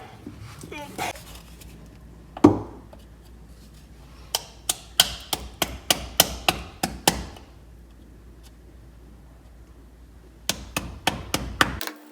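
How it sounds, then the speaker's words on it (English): Sharp hammer strikes ring out as a rear main seal is driven into a Nissan Silvia S15 engine, one early hit then a quick series of about a dozen blows, pausing before a final rapid burst. "I need the hammer."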